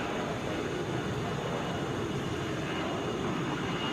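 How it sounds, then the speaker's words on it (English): An airliner roars at Atlanta International Airport, a loud, steady broadband jet rush that holds at an even level for the whole stretch, with no voices. "That's a 31-year-old plane."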